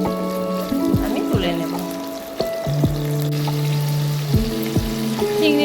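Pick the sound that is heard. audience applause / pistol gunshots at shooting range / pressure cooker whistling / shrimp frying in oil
shrimp frying in oil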